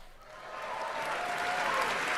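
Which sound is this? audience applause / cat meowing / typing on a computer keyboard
audience applause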